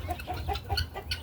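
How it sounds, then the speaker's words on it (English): Polish chickens on a family farm clucking in a rapid run of short, fairly close calls, several overlapping bursts with no talk. "Time to feed some of these Polish chickens."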